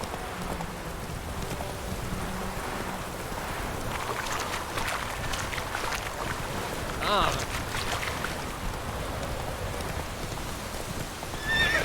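Geralt's horse Roach from The Witcher 3 video game, hooves clip-clopping steadily under wind and ambient game sound, with a brief whinny midway and a voice speaking quietly.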